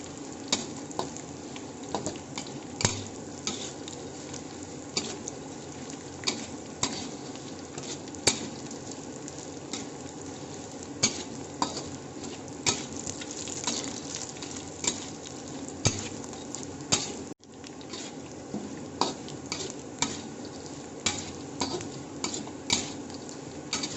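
Jengkol balado being stirred in a pan over low heat, with a spoon scraping and clinking against the metal in steady irregular strokes over a continuous soft sizzle of frying, close and alone without talk.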